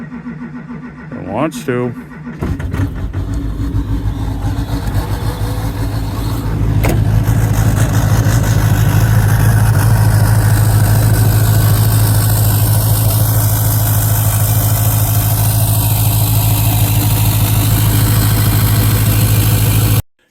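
Diesel engine with faulty glow plugs cranking unevenly, catching, then settling into a steady, loud idle close by, with someone speaking briefly over the start.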